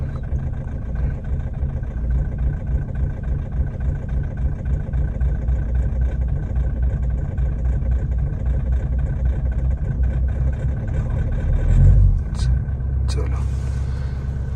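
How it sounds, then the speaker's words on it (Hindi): A Mahindra Thar engine runs in extreme -30°C winter cold in Spiti with a steady, deep, close rumble. People talk over it, and a brief louder surge comes near the end. "गाड़ी स्टार्ट हो गई एट लास्ट।"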